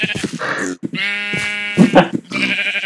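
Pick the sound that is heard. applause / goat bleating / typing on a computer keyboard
goat bleating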